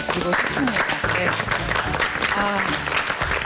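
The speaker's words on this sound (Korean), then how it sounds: "응원의 박수 좀." A studio audience at a Korean health variety show claps in support, brisk applause running under a host's talk and background music.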